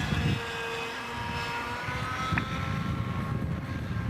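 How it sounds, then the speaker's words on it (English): A small autonomous model helicopter flies aerobatic maneuvers such as loops, pirouettes and backward circles. Its engine and rotors give a steady, fairly distant buzz and drone that holds throughout. "everything are maneuvers that nobody had ever done before autonomously with a helicopter"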